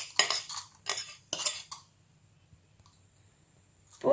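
A spoon stirs tempering into coconut chutney in a bowl: a few close, bright clinks and scrapes come in short bursts, then it fades to near silence.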